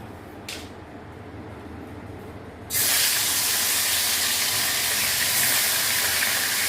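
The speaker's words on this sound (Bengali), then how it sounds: "এবার তেলটা গরম হয়ে গেছে, এবার আমি মাছগুলোকে ভেজে নেব।" Small tapse fish drop into hot mustard oil. A quiet stretch suddenly gives way to a loud, sustained hissing sizzle that holds steady to the end.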